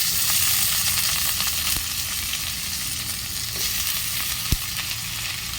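Potatoes for lemon rice fry in hot oil in a pan, a steady, loud, broad sizzle that continues without a break, with a single soft knock near the end.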